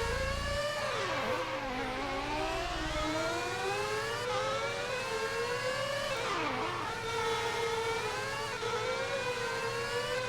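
Formula 1 race cars in a racing video game, high whining engines sweeping up and down in pitch as they accelerate and pass, continuous and loud throughout with a low rumble at the start, no talk.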